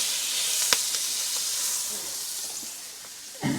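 Food that has been pressed flat with tongs sizzles and hisses steadily in a hot pan, with a few sharp clicks and knocks of utensils and a louder clatter near the end.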